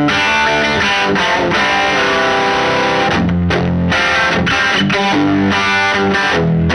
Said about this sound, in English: the treble boost, so it's going to sound like this